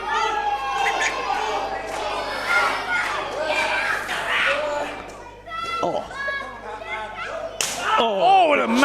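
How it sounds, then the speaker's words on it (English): Hard open-hand chop across an opponent's chest during a UKPW pro wrestling match between two wrestlers, a sharp slap ringing out over crowd noise and a commentator talking. "Oh, what a massive chop. You hear the sound of that."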